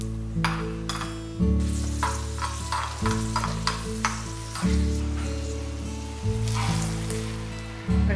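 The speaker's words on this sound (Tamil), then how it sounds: "நான் வந்து இன்னைக்கு திராட்சையை ஃபைனலாக வறுத்து கொட்டியிருக்கேன்" Raisins fry in ghee for payasam, crackling and sizzling steadily with occasional stirring scrapes over a constant low tonal hum throughout.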